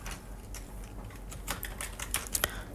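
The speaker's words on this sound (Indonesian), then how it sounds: "di sini saya mulai dengan mengetik" Fingers type on a computer keyboard while writing VBA code in Excel, an uneven run of light clicking keystrokes that grows denser and sharper toward the end, close and fairly quiet.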